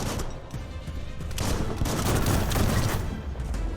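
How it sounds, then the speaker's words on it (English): Gunfire in the video game Biomutant, a dense rapid fusillade of overlapping shots and bursts that swells and holds loud throughout. "Bullets everywhere."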